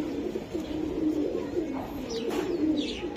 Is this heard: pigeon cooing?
yes